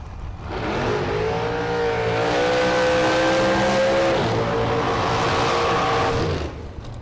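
Drag racing cars roar at the starting line of a high-stakes bracket race, a loud sustained engine drone with rising and falling rev tones for several seconds, close and continuous, with no talk over it.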